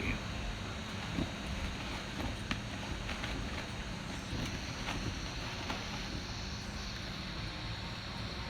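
Heavy wind buffets the microphone, producing a constant low rumble and roar with occasional gusty bumps, and no clear voices.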